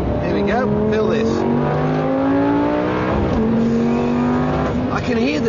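A Lamborghini Gallardo SE in sport mode accelerates hard, its engine note climbing in pitch through the gears with brief dips at each shift, loud and close inside the cabin, with someone talking over it.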